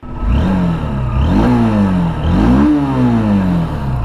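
Honda Unicorn motorcycle exhaust accelerating through first gear, loud and close, with repeated rising revs that climb and dip in several waves over a few seconds, with no talking.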